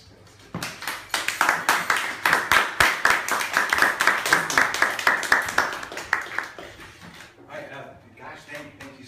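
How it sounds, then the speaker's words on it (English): An audience applauds to welcome a performer at an experimental theater event in Kraków, a burst of dense rapid clapping lasting several seconds that fades out as a voice begins speaking. "please let's give a warm round of applause for Chris."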